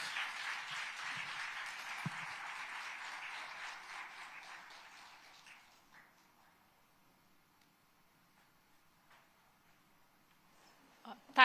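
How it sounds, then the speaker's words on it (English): Audience applause at a women's summit on gender equity in Tamil Nadu, a broad steady wash of clapping that holds for about five seconds, then fades away into near silence. "So let's give them a very warm round of applause."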